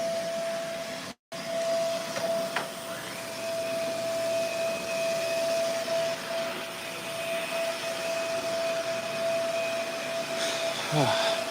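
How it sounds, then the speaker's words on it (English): A vacuum cleaner runs in a workplace with a steady, unbroken motor drone and a constant whine, holding a fairly even level for the whole stretch apart from one brief cutout. "Oh, this vacuum, man. I tell ya."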